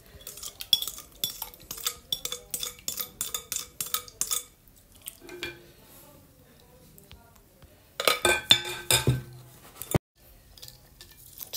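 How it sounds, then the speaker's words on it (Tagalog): Maja blanca ingredients are mixed in a container: a series of quick, rhythmic spoon clinks and scrapes, a quiet pause, then another short burst of stirring and scraping. "pagsasamahin na natin sa isang lalagyan para ma-mix lahat"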